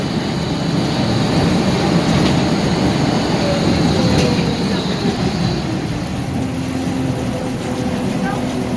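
A tram rolls in to the end of the line with a loud, close rumble, a thin descending wheel squeal, and a bright brake whine near the end.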